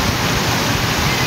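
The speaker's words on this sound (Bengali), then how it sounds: "ঠান্ডা মানে বহুত ঠান্ডা আছে রাইচকে এসে ঝর্ণা দেখতে পাওয়া গেল" Waterfall at Raichak on a very cold day, a dense, continuous roar of rushing water close by and loud, with no voices over it.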